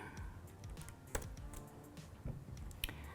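Keyboard shortcuts being pressed on a computer keyboard while working in Premiere editing software: quiet, close clicky keystrokes in short irregular bursts, with a few sharper taps standing out.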